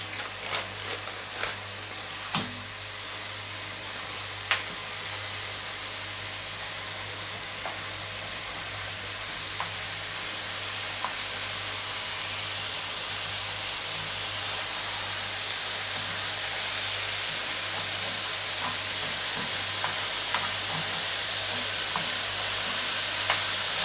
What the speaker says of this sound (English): Now we just put this burger in here.